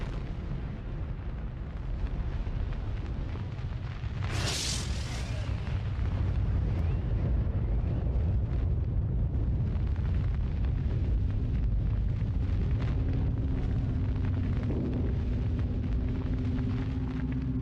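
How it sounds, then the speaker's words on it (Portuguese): Nuclear test explosion heard as a loud, sustained low roar and rumble, with a bright burst around the middle and a continuous blast-like din throughout. "se os soldados caminhariam na direção de uma explosão nuclear"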